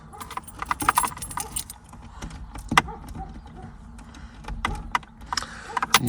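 A key on a jangling ring worked and wiggled in the ignition lock of a Fiat 126 Maluch with starter trouble, with irregular metallic clinks and rattles, close up, over a low background rumble.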